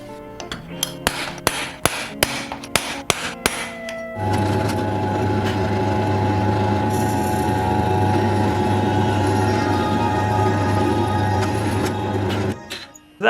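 A bar is cut for a robot build, starting with a series of loud, sharp metallic knocks. Then a steady, harsh cutting drone runs for several seconds before it stops abruptly.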